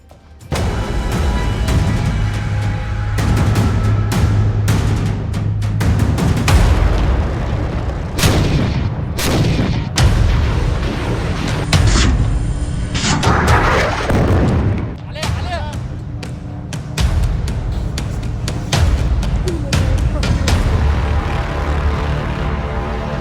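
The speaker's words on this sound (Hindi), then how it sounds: "ये बारूदी तांडव इजराइल दिखा रहा है।" Heavy artillery fire and explosions from Israeli strikes, with repeated loud booms and sharp blasts in a dense, continuous barrage, joined by a low droning rumble that may be aircraft.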